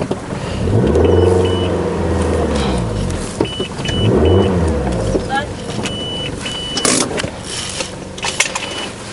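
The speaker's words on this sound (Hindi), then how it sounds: "गाड़ी लगाते हैं साइड में।" A car pulling over and parking at the roadside near a valley, its engine rumbling and shifting pitch as it slows and maneuvers, with short mechanical clicks and knocks and voices talking over it.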